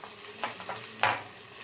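Fish curry masala frying in oil in a pan sizzles quietly and close, with a few short scraping stirs, the last one louder.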